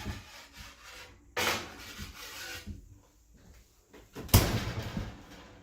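Matzo dough is slid into an oven and the oven door is handled, giving two sharp broadband rubbing, scraping bursts near the start and end with quieter kitchen shuffling between, close and fairly loud.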